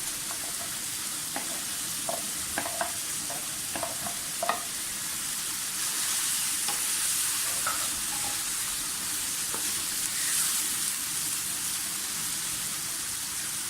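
Keema with kachnar sizzling and frying in a pan as tomatoes are added, a steady crackling hiss throughout with a few soft clinks of stirring.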